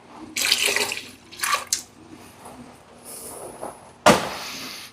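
Water from a can pours into a pot of sausage, chickpeas and ditalini, with short splashy bursts of running water, a few quiet clunks between them, and a final louder splash near the end.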